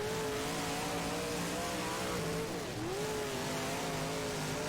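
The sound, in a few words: race car engine in rFactor video game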